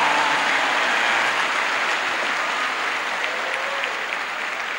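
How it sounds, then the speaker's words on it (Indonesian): An audience at an Indonesian religious lecture breaks into steady, dense applause, a loud, continuous wash of many hands clapping together that stays full for several seconds, with no voices over it. "Tepuk tangan dong."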